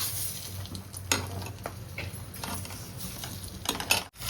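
Egg masala sizzling and frying in a pan, with a spoon scraping and stirring at intervals over a steady low crackle, a few sharp clinks against the pan near the end.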